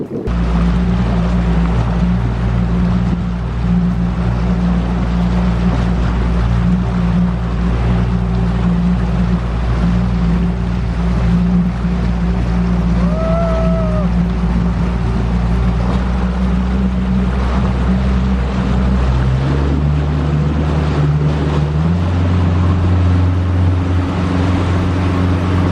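Steady low drone of a motorboat cruising across a lake in Voyageurs National Park, the engine hum constant and loud with water rush, shifting pitch slightly near the end.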